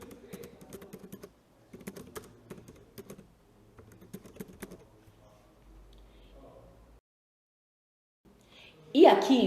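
Bursts of tapping on a computer keyboard in a quiet room, several short runs of keystrokes separated by pauses, moderately close and fairly soft.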